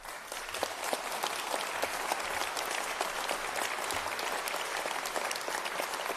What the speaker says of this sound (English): Who's clapping that?